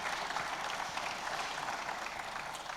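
An audience at a geology conference workshop applauding, a dense, steady wash of clapping from many hands throughout the short stretch.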